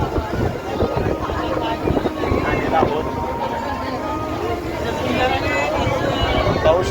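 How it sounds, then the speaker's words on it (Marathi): Boat ride on the open sea off Kanyakumari, with steady wind buffeting and rushing water noise throughout while people talk over it. "आता आम्ही आतमध्ये या ठिकाणी समुद्र विहार करत आहोत"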